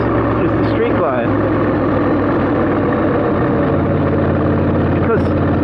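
A 2022 Harley-Davidson Low Rider S with a TBR exhaust rumbles steadily at low revs, a constant deep throb that continues beneath someone talking.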